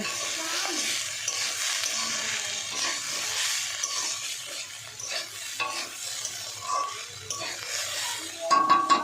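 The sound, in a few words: food frying and stirred in pan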